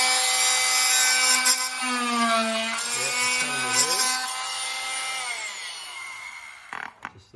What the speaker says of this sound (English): it takes a bit of effort and power to cut through the timber